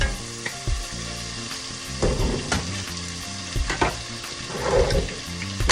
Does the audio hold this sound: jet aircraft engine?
no